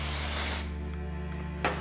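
Short burst of hairspray sprayed onto hair while back combing for a rosette bun, a loud close hiss that stops, then a brief second spray at the end.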